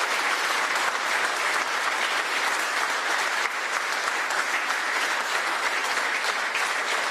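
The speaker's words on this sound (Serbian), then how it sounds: "molim vas da im se zahvalimo jednim ogromnim aplauzom" A large audience at a political speech event breaks into loud, dense applause that holds steady and unbroken throughout.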